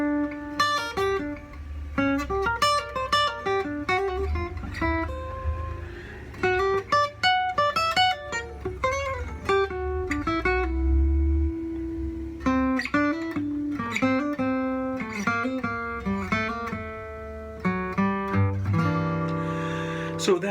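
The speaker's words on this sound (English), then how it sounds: "So that's the sound of the G melodic minor scale." A guitar played alone, running through the G melodic minor scale as a series of clean, distinct plucked notes in a steady melodic line, ending on a strummed chord.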